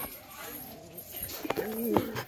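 Domestic pigeons kept at a home loft, with a couple of soft close coos near the end over quiet background noise.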